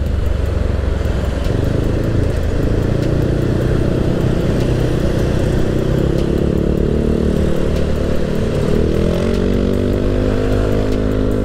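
Riding a 200cc bore-up Yamaha Aerox produces a loud continuous engine hum and road noise, the engine pitch climbing as the scooter accelerates toward the end.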